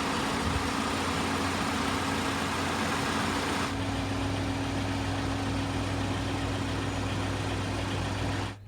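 A BMW F20 118i M Sport hatchback's engine runs at a steady idle, a constant mid-to-low hum with a fixed tonal drone, close and even throughout, with a slight shift in tone midway and no talking.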